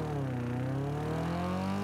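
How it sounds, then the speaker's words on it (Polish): A continuous droning video game car engine hum whose pitch climbs slowly and steadily, smooth and synthetic-sounding. "A dźwięk silnika mam z Fenka, dlatego poszukam z Ace'a"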